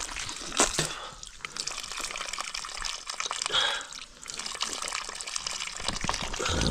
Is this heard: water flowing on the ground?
yes